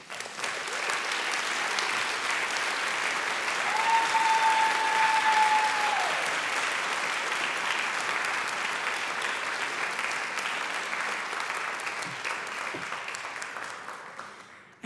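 Sustained, dense applause from a large audience at a writers' awards ceremony, steady throughout and slowly thinning toward the end.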